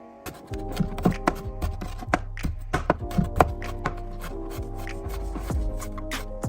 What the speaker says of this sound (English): I'm gonna take 4 nice sized cloves of garlic and I'm gonna chop them up